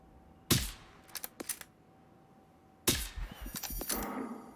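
Gunfire in the video game Generation Zero: a sharp nearby shot, then a few quicker cracks, and after a pause another loud shot followed by a scattered run of smaller bangs and rattles.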